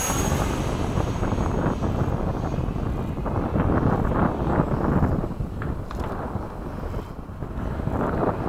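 E-flite 80mm F/A-18D electric ducted-fan model jet making a low pass at a flying field, a loud rushing whoosh that stays strong for several seconds, with heavy wind buffeting on the microphone.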